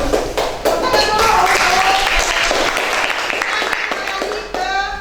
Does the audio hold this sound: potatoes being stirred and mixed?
no